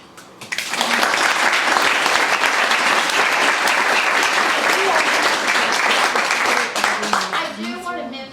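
An audience at a history talk breaks into loud, sustained clapping that swells quickly and holds steady for several seconds, then tapers as a voice begins speaking.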